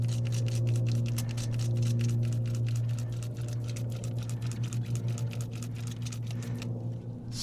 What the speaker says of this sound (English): All right, now we're moving some water through here.